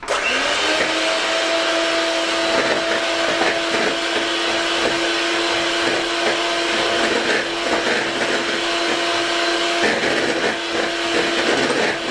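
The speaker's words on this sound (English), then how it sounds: "We need to whisk by using electric." Electric hand mixer whisking egg whites into meringue for a coconut chiffon cake, a loud steady motor whine running continuously and close, with a slight drop in pitch near the end.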